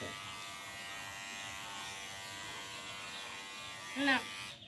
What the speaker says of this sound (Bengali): দাড়ি কেটে দেবো এইটুকু দাড়ি ওই মেশিন কাটা যায়